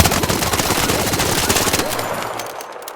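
A Bobcat automatic gun fires in a PvP video game, a rapid sustained burst of loud, close gunshots for about two seconds, then the firing stops and quieter reload clicks follow.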